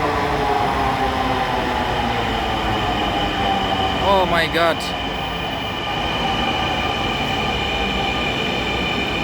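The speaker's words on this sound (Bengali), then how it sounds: "ট্রেন চলে আসছে।" A packed commuter train arriving at a platform, a loud continuous rumble with wheels screeching in a rising squeal midway, and a person briefly exclaiming over it.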